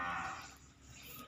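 A bull mooing in a cattle pen at a large farm in Jember, a low sustained lowing heard close and fairly loud over background noise.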